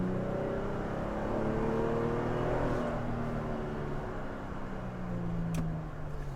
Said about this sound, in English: This exhaust sounds relatively quiet, but the soundtrack is awesome.